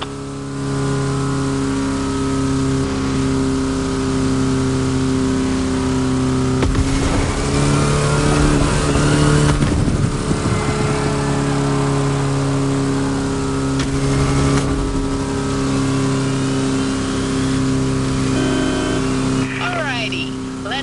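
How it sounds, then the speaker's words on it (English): A Volkswagen Type 2 bus in the racing game The Crew Motorfest drones and revs hard with a steady mid-pitched engine roar that swells and dips, and a voice talks over it throughout. "Push that good old Type 2 engine to its absolute limit."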